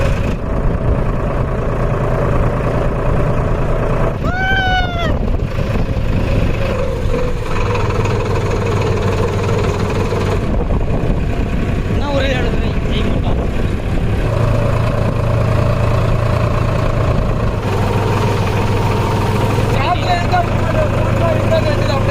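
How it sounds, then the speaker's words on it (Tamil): Farmtrac World Maxx 55 HP tractor straining to tow a boat across sand, its engine rumbling continuously up close while people talk over it throughout. "ஸோ உண்மையிலே இந்த 55 HP உள்ள இந்த டிராக்டர் கப்பலை எப்படி கட்டி இழுக்குதுன்னு பார்க்கலாம்."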